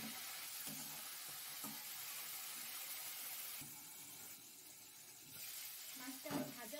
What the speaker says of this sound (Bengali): মাছটা এবার আমি একটু ভেজে দেব।